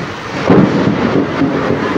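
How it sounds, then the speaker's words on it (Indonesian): Thunder rumbles during heavy rain at an outdoor inauguration ceremony under tents in Banten, a loud, broad, sustained roar that swells and fades over two seconds with no talking. "dan guntur yang meledak-ledak"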